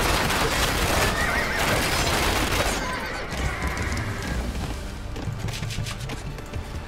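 A horse whinnies loudly in Age of Empires II, a long shrill neigh over busy battle noise and hoof clatter, fading into softer game sounds.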